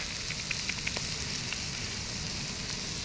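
A pan of spiced mutton ghugni sizzles steadily as cumin powder goes in, a constant hiss with a few soft pops and scrapes, close and even, with no talking.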